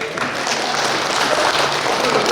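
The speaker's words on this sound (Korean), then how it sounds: "호명 직원들 박수 한번 치세요" Staff members at a county town-hall meeting with residents clap together in a dense, steady round of applause that holds at an even level throughout.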